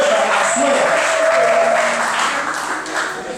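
An audience applauding with loud, steady clapping that holds for a few seconds and then begins to taper off.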